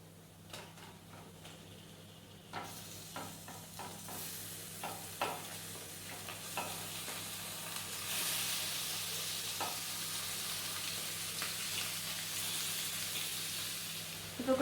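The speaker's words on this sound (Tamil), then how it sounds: "இப்போ நம்ம சிக்கன் இந்த டைமில் ஆட் பண்ணிக்கலாம்." Chicken goes into a pan of golden fried onions and tomato, with a few stirring scrapes followed by a steady, close sizzle of frying that grows louder.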